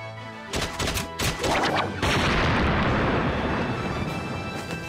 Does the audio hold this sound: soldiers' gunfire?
yes